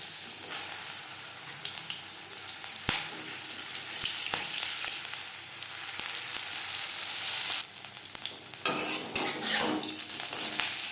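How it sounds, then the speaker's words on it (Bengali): Marinated okra frying in hot refined oil, a steady crackling sizzle with scattered sharp clicks and scrapes of a spatula against the pan, growing busier toward the end, close and without talking. "ভেন্ডি ভাজবার জন্য তিন চামচ রিফাইন্ড অয়েল গরম করে নিয়েছি এবার দিয়ে দেব ম্যারিনেট করে রাখা ভেন্ডি"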